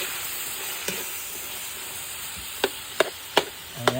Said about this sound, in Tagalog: Halo-haloin lang natin ito mga mima ko at ating durug-durugin.